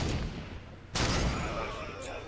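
Gunfire rings out in the Halo 5: Guardians multiplayer map Meridian Station, with a sharp close shot cracking midway through a dense, continuous wash of distant battle noise.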